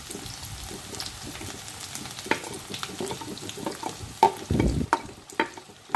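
Onion and garlic tempering hitting hot oil for Bihari-style matar ghugni, a close, steady crackling sizzle with scattered sharp pops and clinks, swelling louder toward the end.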